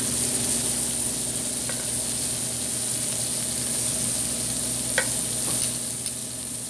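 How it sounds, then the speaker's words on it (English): Scallops sear in a hot pan with a steady, close sizzle, broken by a few faint crackles and pops, with no voices. "you want to get the scallop nice and brown"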